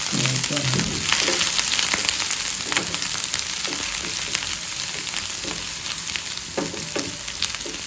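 Ginger and garlic sizzle steadily in hot oil in a pan, a dense continuous frying hiss with occasional soft stirring scrapes, close and loud without talk.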